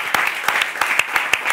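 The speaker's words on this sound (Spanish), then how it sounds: "¡Un aplauso para ella!" Sparse, scattered clapping from a small audience greeting a guest on a dinner talk show, individual claps audible in an uneven rhythm, fairly quiet.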